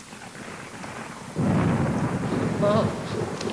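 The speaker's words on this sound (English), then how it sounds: "Must be the storm." Thunderstorm with a low rumble of thunder that swells suddenly partway through, over steady rain hiss; continuous and fairly loud, with no talk.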